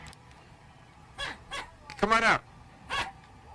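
A man imitates a dog barking, giving several short yelping barks in a row indoors, with a little talk mixed in between them.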